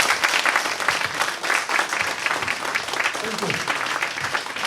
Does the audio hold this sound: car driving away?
no